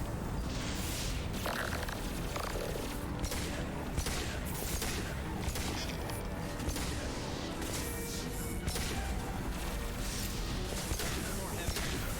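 Rapid, sustained gunfire in Mass Effect Legendary Edition, crackling shots and impacts packed densely over a constant background of combat noise, with a voice speaking over the action.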